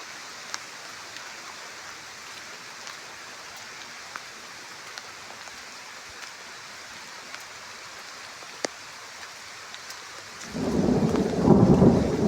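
Steady rain falls in a garden with sharp drip ticks, then a loud rumble of thunder rolls in near the end.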